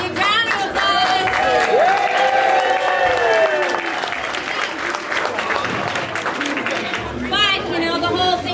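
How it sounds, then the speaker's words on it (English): Audience at a lakeside luau cocktail contest breaks into steady applause, a loud sustained wash of clapping with some cheering and crowd chatter mixed in, while a voice talks over it. "I'd love to give a big round of applause"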